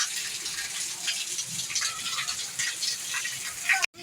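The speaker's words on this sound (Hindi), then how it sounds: "बारिश से आप लोग अंदाजा लगा सकते हो।" Heavy rain pours down during a storm with snow also falling, producing a dense, steady rushing wash of water close by, unbroken for several seconds and ending in a sudden brief cut.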